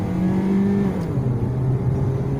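A used Toyota Vios driven at speed on a test drive, a steady loud engine hum with a drop in pitch as it shifts gear, heard from inside the car, no talking.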